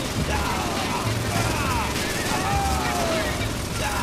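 Rapid rifle gunfire from the video game Saints Row IV, dense and continuous under a steady wash of game noise and music, with someone talking over it.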